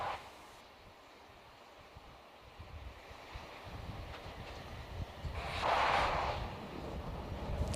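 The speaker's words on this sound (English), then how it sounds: "That periodic venting sound you hear is normal." A Falcon 9 rocket on the pad vents chilled gas from above its liquid oxygen tank, a broad hissing rush that swells loudly around the middle-to-late part, over a steady windy background with no talking.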